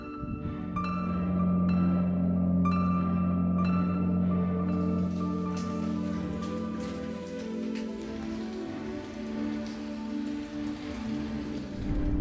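Steady rain falls on a surface in Japan during a solo bikepacking trip, a continuous close patter of drops with a low hum and faint tones beneath it, no talking.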